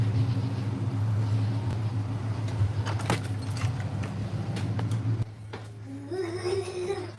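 A Coyote-swapped Cobra sits idling with a steady low engine rumble that drops slightly partway through, while keys jingle and brief background voices come and go.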